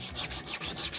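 Hand sanding on the body work of a VTOL dropship aircraft model, with steady back-and-forth rasping strokes, close and fairly loud, repeating in an even rhythm with no talk.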